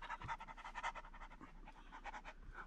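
Rapid, rhythmic panting breaths, like a dog's, made by a person imitating the sound, quiet and close.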